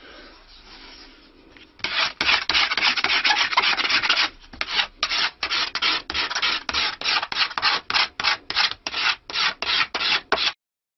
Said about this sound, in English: using a scraper to just slightly taper the edges of the back